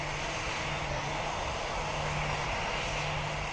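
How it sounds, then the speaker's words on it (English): Twin aircraft engines spool up to takeoff thrust in a flight simulator game, a steady, loud broadband roar with a constant low hum beneath, holding level throughout with no voices. "Powering the 2 engines for takeoff thrust."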